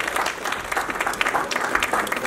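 Audience clapping at an annual community function to welcome participating children, a dense continuous round of applause from a crowd nearby.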